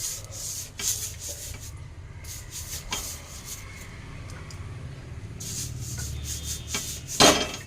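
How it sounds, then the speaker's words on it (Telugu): Oil rubbed across a heating dosa pan gives soft, continuous scraping and wiping strokes, close and fairly quiet, with a few sharper scuffs near the end. "ఇప్పుడైతే ఆయిల్ అయితే పామేద్దాము దీనిపైన"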